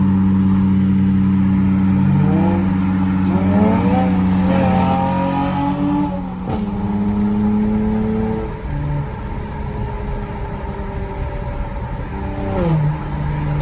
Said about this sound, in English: this car sound good as fuck, but hey, it may be a V6